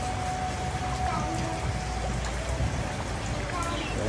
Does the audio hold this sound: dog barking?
no